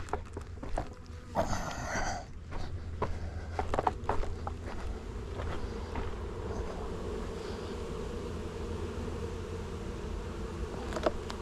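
Honeybees buzz steadily around an open hive during an inspection in a bee hut, a continuous droning hum with a few louder passes of individual bees close by and occasional handling clatter.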